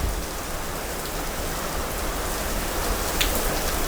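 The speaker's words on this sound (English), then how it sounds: "it is really beginning to storm" Steady rain pours during an Alpine storm, a dense even hiss of drops on surfaces that stays constant and fairly near, with no voices.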